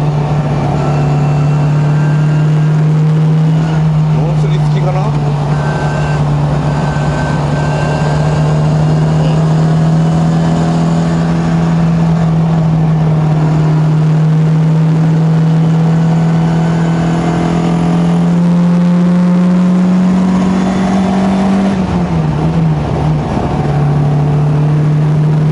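MGB sports car engine droning loud and close while driving, a steady mid-pitched hum that slowly climbs as revs build, then dips briefly near the end with a gear change.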